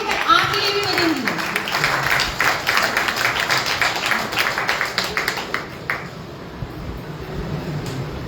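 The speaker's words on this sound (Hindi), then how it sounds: "Give a big applause for her. तालियां बजाते रहिए भैया" Audience at a coin-plan business meeting claps for a woman on stage, a dense, fairly loud crowd applause with a voice over the start, thinning out and tapering off after about six seconds.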